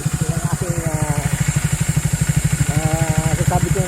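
A Triumph Speed 400 motorcycle engine thumps in a steady, rapid pulse, loud and close throughout, with a voice talking over it.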